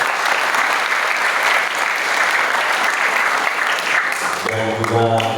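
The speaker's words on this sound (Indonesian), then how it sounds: "Satu Habib kita, Habib Nobel, sekali lagi tepuk tangan buat beliau." An audience at an Islamic boarding school gathering in Cirebon gives Habib Novel Bamukmin loud, dense, sustained applause, and near the end a voice breaks in over the clapping.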